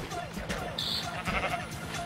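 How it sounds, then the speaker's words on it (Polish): A sheep bleats in the Minecraft video game, sounding as a short bleat amid clicky game sounds while someone speaks over it. "Znowu owca."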